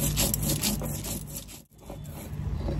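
Ginger, garlic and whole cumin being ground together make a close, continuous rough scraping and rubbing sound with repeated back-and-forth strokes and a brief dip near the end.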